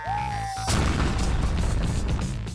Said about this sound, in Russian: Свой выстрел делает Шалгымбай Каратаев.